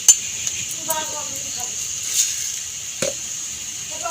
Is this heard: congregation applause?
no